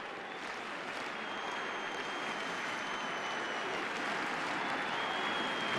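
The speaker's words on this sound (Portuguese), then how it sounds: "bate palmas, grita Brasil" A stadium crowd at a Brazil versus France football match at Arena do Grêmio applauds steadily, a dense, sustained clapping wash heard from within the stands, slowly swelling.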